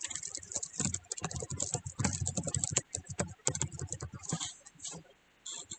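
Rapid clattering keystrokes on a computer keyboard, typing a word in irregular quick bursts with short pauses, close and clear, trailing off into near silence at the end.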